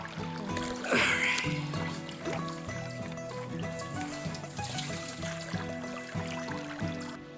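Water trickling and splashing near a container as it is filled from a stream along a Wisconsin backpacking trail, close and fairly quiet, with a brief louder splash early on.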